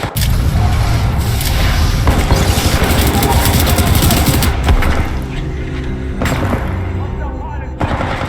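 Gunfire in the Titanfall 2 campaign is loud and dense, with sustained automatic bursts and booming shots over several seconds, mixed with shouted combat voices.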